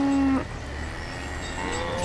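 A single low cow moo opens the scene, loud and close, from cattle in the village-building game Banished, then fades into a soft ambient game background.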